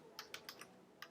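A password is typed on a computer keyboard, five quick, faint key clicks in about a second, close and alone.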